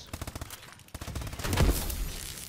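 Rapid automatic gunfire from Call of Duty Advanced Warfare multiplayer, an AK-12 rifle, with bursts of shots building into a loud, dense fusillade, plus brief speech mixed in.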